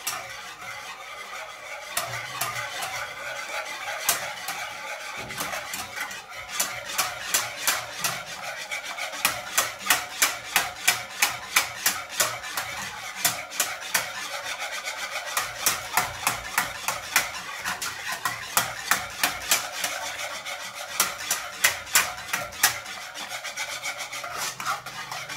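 Yogurt being mixed with Danone in a bowl, a utensil scraping in rapid rhythmic strokes against the bowl, close and fairly loud, with bursts of quick regular scrapes.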